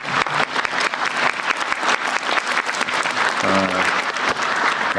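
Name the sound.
audience applause at government briefing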